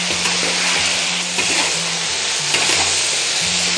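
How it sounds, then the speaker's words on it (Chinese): Mutton pieces stir-fried in a wok with sauce sizzle loudly and steadily, with scraping stir strokes of the spatula recurring throughout and no voices. "稍微把这个水分给它稍微炒一炒，炒了大概10来分钟，就是表面水分炒干了，我们就可以下入这些酱汁，给它翻拌均匀"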